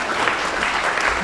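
A church congregation claps during a Sunday worship service, dense steady applause filling the room for a brief moment.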